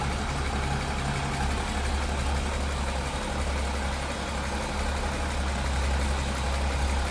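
A 1953 International L-120 pickup with a single carburetor idles smoothly and steadily, a close, even low engine rumble running alone without any change in pace.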